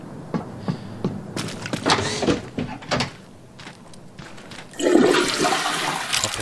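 A toilet flushes in the video game Prey, a loud rushing gush of water that swells near the end after a few clunks and knocks, with little talk over it.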